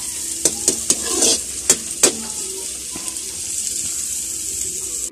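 Carrots are tossed into a hot pan for a sweet and sour fish dish and stir-fried, giving several sharp scraping clatters over a steady bright sizzle that continues evenly afterward.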